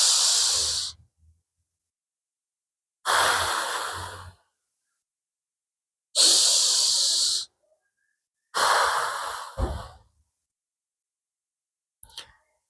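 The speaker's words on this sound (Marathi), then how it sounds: "श्वास सोडताना शिट्टी मारल्यासारखं तोंडानं श्वास सोडायचा आहे." A person in a breathing exercise before reiki practice, blowing out through pursed lips in four long, airy, whistle-like exhalations about three seconds apart, close and clear with silence between each breath.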